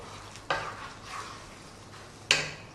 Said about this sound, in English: We're going to stir that through, keep it on the simmer, keep it cooking all the time